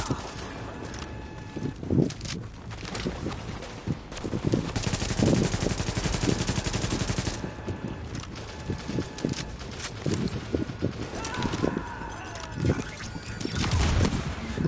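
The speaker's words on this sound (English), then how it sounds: "Oh, there's a heavy gun." Heavy machine gun fire in The Division video game, loud sustained bursts with scattered shots across the clip, mixed with game effects and occasional voice in the background.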